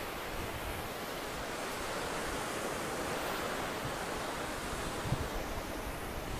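Waves wash and splash against a pier in Recife, a dense, continuous roar of surf close by with a steady hiss and no voices.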